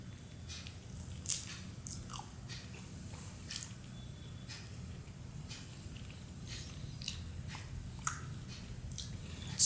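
Wet, squishy bites and chewing on a juicy roast chicken leg at close range, soft smacking and crunchy textures recurring through the clip with no talking.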